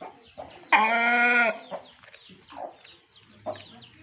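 Farm chickens with chicks on a hot day: one loud, drawn-out hen squawk stands out near the start, followed by scattered softer clucks and chick peeps close by.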